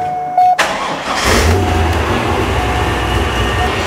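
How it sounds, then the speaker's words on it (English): A supercharged Corvette engine cranks over and fires, then settles into a loud, rough, pulsing idle with a deep rumble. No one speaks. "It's time to fire this motor up and see what I've got."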